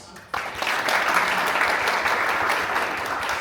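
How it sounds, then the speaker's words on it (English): Seminar attendees break into applause for themselves, the clapping starting abruptly after a short quiet moment and carrying on as a full, even crowd sound. "We also want to ask us to clap for ourselves"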